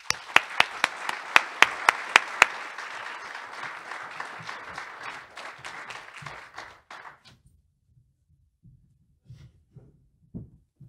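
An audience at a conference claps to welcome speaker Frederick Riley, a burst of applause with sharp individual claps that thins out and fades to scattered claps and silence.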